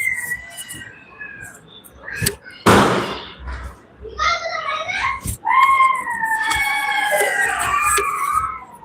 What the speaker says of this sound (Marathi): फटाके वाजताय फटाके मोठे मोठ्याने